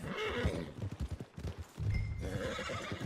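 A horse in Red Dead Redemption 2 whinnies loudly, then hooves clip-clop in quick irregular beats, close and clear, with a second neigh-like burst midway and no talking.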